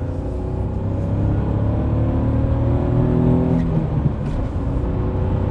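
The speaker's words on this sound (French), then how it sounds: "Ah, j'adore le son du moteur." Citroën C4 PureTech 110 three-cylinder petrol engine driving on a rough, worn country road, a steady close drone with smooth low harmonics and continuous road rumble, no speech.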